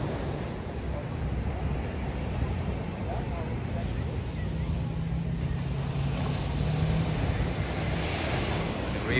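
Ocean waves rolling and breaking at Kuta Beach, Bali, on a cloudy day, heard as a steady, continuous wash of surf with wind noise on the microphone and faint talk in the background.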